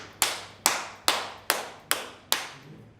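Hands clap six times in an even, steady cadence, each clap sharp, fairly close and alone with no talk.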